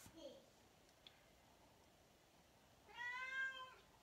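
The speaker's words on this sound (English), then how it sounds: "Can you guys hear my cat?" A pet cat named Tasha gives a clear, close meow near the end, with faint indoor sounds and a brief soft earlier mew before it.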